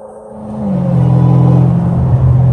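A Dodge Hellcat's engine rumbles loudly while driving, a deep steady drone that swells and builds after a brief quieter start, then holds strong and close with a slight rise near the end.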